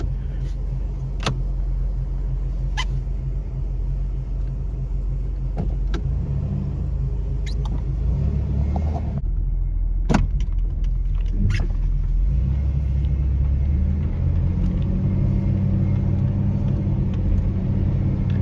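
A 1993 Ford Ranger pickup with 23k miles drives along, its engine rumbling steadily from inside the cab as it shifts gears, with scattered clicks and knocks over the road noise.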